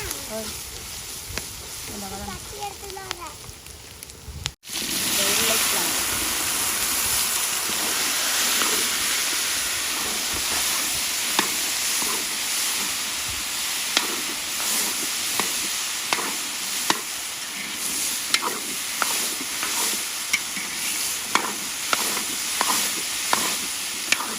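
Curry ingredients sauté in a pan during a big family cooking session: after a brief voice and a sudden cutoff, a loud, steady sizzle takes over, dotted with sharp crackles and pops.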